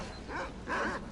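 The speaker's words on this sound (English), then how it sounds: "Those sound like wild dogs." Wild dogs in the video game STALKER: Call of Pripyat give two faint, rising and falling whining yelps, one after the other, heard at a distance over low background hum.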